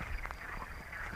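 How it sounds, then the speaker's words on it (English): A frog croaks beside an old Roman road on the Camino de Santiago, rough raspy calls over steady outdoor background noise, fairly faint, with no talking. "Kind of like a cross between a frog and a duck."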